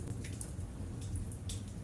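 Rain falls in an even wash, with occasional brighter drops spattering on a surface above a low, steady rumble, and no one speaks.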